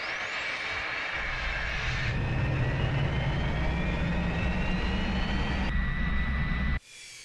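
A Fiat-Aeritalia G-91 jet in Microsoft Flight Simulator runs steadily, a loud continuous turbine roar with a rising whine, the throttle shifting partway through before the engine abruptly cuts off near the end.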